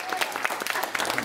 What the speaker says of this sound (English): So I think we should give you guys a big round of applause.